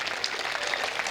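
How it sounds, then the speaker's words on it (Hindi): An audience at a poetry recitation claps together, a soft, fairly distant wash of many hands that runs steadily through the short stretch with no talking. "दोनों हाथ उठाकर एक बार ताली बजाएं"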